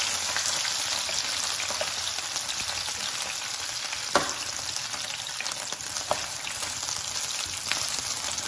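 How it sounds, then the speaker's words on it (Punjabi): Boiled potatoes shallow frying in hot oil over a low gas flame for a spicy Gujarati chaat, producing a constant close crackling sizzle with a few sharp pops and no speech. "ਤੇਲ ਗਰਮ ਹੋ ਚੁੱਕਾ ਹੈ ਇਹਦੇ ਵਿੱਚ ਆਪਾਂ ਉਬਲੇ ਹੋਏ ਆਲੂ ਪਾ ਦਿੰਦੇ ਹਾਂ"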